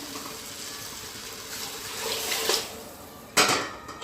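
Water splashes and trickles into a metal pot of masala rice at close range, with a brief clatter near the end; no one speaks.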